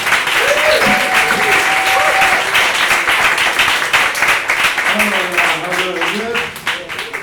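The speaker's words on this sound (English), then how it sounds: "stop clapping, stop cheering" Comedy club audience clapping and cheering at a stand-up night, loud and dense applause with whoops, and someone talking over it as it begins to die down.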